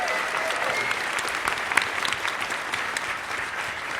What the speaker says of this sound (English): One more clap for my daughter Taylor